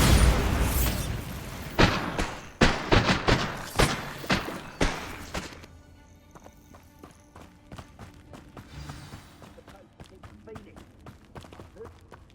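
Bombarda spell explosions in the video game Hogwarts Legacy, a string of sharp booming blasts and thuds packed into the first few seconds, then scattered fainter impacts and footsteps, loud and close.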